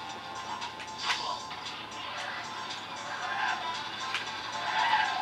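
Vehicle engine hum and tire noise from Banjo-Kazooie: Nuts & Bolts, driving in Showdown Town, a steady mid-level whir with brief swells and skid-like bursts throughout.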